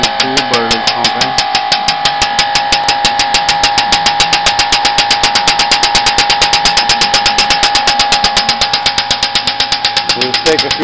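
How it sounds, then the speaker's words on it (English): A pump on a 70 gallon biodiesel processor runs loud and close, a steady mechanical drone with a fast, even pulsing beat that continues without letup. "Start the pump. I don't know if you can see, but it is pumping."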